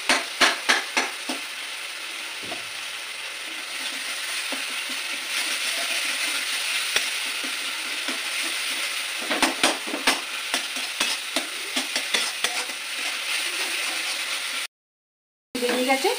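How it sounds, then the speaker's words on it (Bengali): A metal spatula scrapes and rubs green chillies in a frying pan, with steady sizzling and stirring scrapes running throughout, occasional sharper clacks of utensil on pan, close and fairly loud, no talking. "কাঁচা লঙ্কাগুলো খুন্তি দিয়ে একটু ঘষে ঘষে দেবো"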